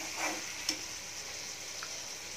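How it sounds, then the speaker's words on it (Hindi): Masala egg bhurji with spices and Kashmiri chilli being stirred in a pan, a steady soft sizzle of frying with a couple of brief spatula scrapes, close and fairly quiet, no talking. "इसको भी मिक्स कर लेंगे अच्छी तरह से।"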